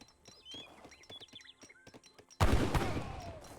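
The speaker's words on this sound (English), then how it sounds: "Samurai gets gunned down" Musket and gunfire volley in Age of Empires 3, soldiers shooting down a samurai in a Portuguese versus Japanese battle: a sudden loud burst of dense crackling shots that continues, after quieter scattered clicks and battle noises.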